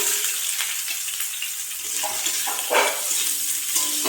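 Chopped onions with garlic frying in hot oil for a pumpkin-stem musur dal, a continuous sizzle with occasional louder spatters and stirring scrapes, close and unaccompanied.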